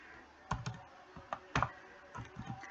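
Light, scattered keystrokes on a computer keyboard as a name is typed into Tally Prime accounting software, quiet and close, in short irregular bursts with pauses between.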